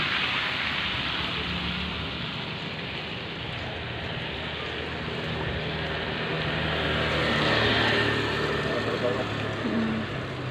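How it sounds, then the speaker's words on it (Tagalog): Steady rain falling on a roadside during a rainy spell in Lapu-Lapu City, Cebu, a constant broadband hiss with faint traffic beneath, heard from close by at moderate volume. "Ilang araw na po umuulan dito guys."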